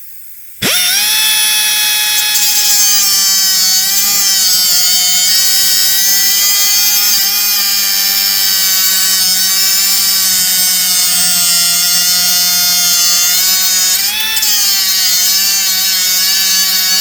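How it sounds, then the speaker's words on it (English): A pneumatic air tool runs steadily and loudly, close up, as it cuts rivet ends off the steering coupling of a 1973 Mercedes 450SL R107. After a brief silent start it holds a constant high whine with dips in pitch for about sixteen seconds, no voices. "I'm going to go ahead and get my air tool out here. I'm going to cut the ends of these rivets off here and here."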